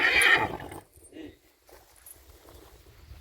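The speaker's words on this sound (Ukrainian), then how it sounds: "Є ще у Юри тут кобила" A young horse gives a short whinny up front, then quieter rustling and faint hoof or footstep sounds follow.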